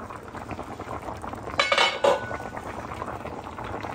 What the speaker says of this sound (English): So I let it boil for some minutes.